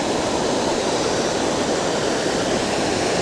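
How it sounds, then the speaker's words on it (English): Foster Falls waterfall flowing strongly in autumn, a steady, loud, unbroken rush of falling water filling the whole scene with no voices. "This is an awesome waterfall."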